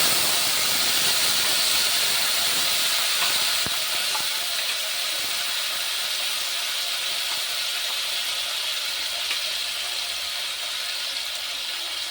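Tomato and spice paste hits a hot pan in a vegetarian paneer dish, giving a loud, steady sizzling hiss with steam that eases off slightly after the first few seconds, with a few faint clinks and no talk.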